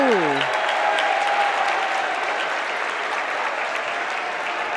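Crowd at a high school basketball game between NDCP and St. Patrick cheering and applauding after a made basket, a loud, dense and sustained wash of clapping and voices that holds steady throughout.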